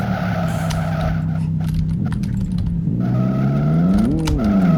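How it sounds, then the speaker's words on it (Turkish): BMW E36 drifting in the racing game Live for Speed, with a loud steady engine drone and tire squeal swelling and bending in pitch as the car slides, continuous throughout. "Arap drift yapıyor on numara."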